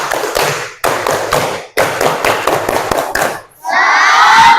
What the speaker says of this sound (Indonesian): semua serempak tepuk semangat